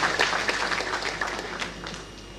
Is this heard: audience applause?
yes